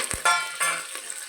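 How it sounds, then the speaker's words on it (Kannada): Mustard seeds sizzle and spit in hot cooking oil in a pan with a few sharp crackling bursts, close by, with no talking. "ಅದಕ್ಕೆ ಮೂರು ಟೇಬಲ್ ಸ್ಪೂನಷ್ಟು ಅಡುಗೆ ಎಣ್ಣೆ ಹಾಕಿ ಸಾಸಿವೆ ಹಾಕಿ ಸಿಡಿಸ್ಕೊತಾ ಇದ್ದೀನಿ"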